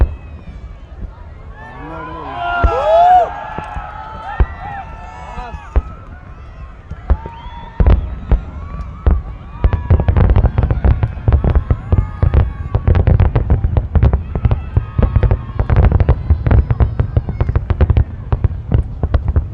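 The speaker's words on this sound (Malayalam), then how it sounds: "ഇത്രേ ഉള്ളൂ വെടിക്കെട്ട്." A New Year 2026 fireworks display at Marjan Island, Ras Al Khaimah: after whistling rockets, a dense barrage of loud booms and crackles rolls on steadily while people talk nearby.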